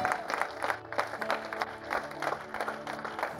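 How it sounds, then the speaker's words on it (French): Church congregation clapping steadily in rhythm during worship, dense hand claps from a crowd with voices mixed in. "Si tu as été béni, acclame Dieu."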